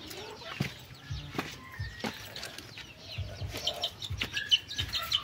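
Black Australorp and Rhode Island hens cluck around their egg nests, giving short, close, intermittent clucks spaced irregularly over a quiet coop background.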